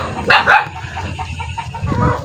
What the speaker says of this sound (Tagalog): Yung, yung aso guys, oh, malaking aso.